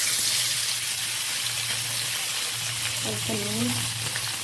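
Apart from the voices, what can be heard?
potatoes frying in hot wok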